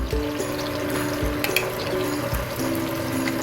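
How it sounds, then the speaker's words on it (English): Peach preserves sizzle steadily in a saute pan, a close, continuous frying hiss with soft bubbling and a few light stirring clicks throughout. "So I'm putting some peach preserves right in that pot"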